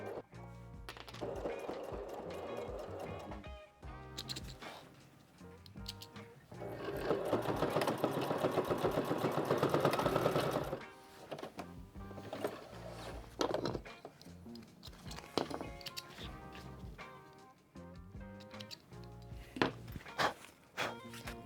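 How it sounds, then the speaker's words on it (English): A sewing machine stitches a collapsible packing cube pouch in bursts of rapid mechanical chatter, with one long run in the middle. Short pauses carry handling clunks and fabric rustle, all close and clear. "Clip them on the outside because I'm going to start stitching at this point and heading out this way."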